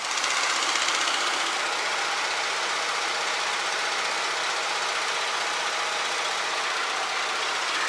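Engine of a 1936 Aeronca Low Wing aircraft in flight, a steady dense drone with wind rush, unchanging and loud throughout, with no voices.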